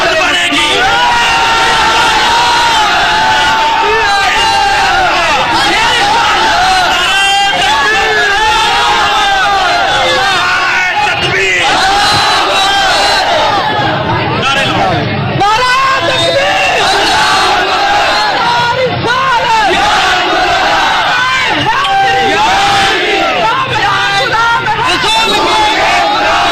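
A large crowd at Nankana Sahib yelling and chanting, a dense, loud, continuous roar of massed voices with rhythmic shouted surges and individual cries rising above the babble throughout.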